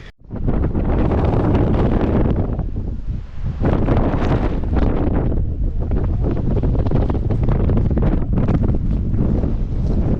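Strong, cold mountain wind on Mount Pulag roars and buffets continuously across the microphone, loud and gusty with a brief lull partway through.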